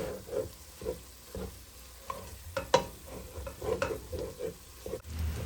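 Egusi fries in a pot with oil and tomatoes, giving a soft sizzle broken by repeated stirring scrapes and spoon knocks at an uneven rhythm.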